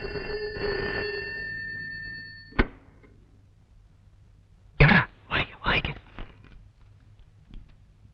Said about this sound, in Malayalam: ആ, ഫോൺ എടുക്ക്.